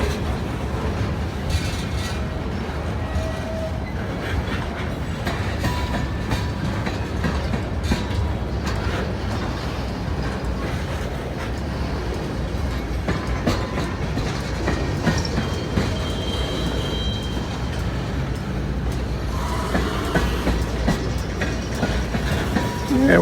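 A CSX freight train passes at night, its rumbling cars and rhythmic clickety-clack of wheels going on steadily for over twenty seconds, loud and close, with occasional faint squeals and no talk.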